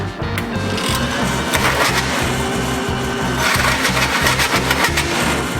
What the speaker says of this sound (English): So I just threw these on the disc sander real quick.